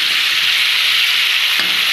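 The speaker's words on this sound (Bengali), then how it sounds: "কড়াইতে আলুগুলোও দিয়ে দিয়েছে মা" Potatoes fry in hot oil in a wok, giving a close, steady, bright sizzle with a faint clink of stirring near the end.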